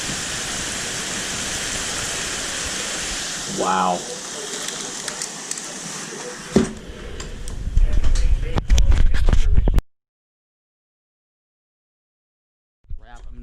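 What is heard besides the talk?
hail falling on a roof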